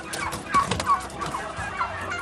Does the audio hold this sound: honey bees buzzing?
no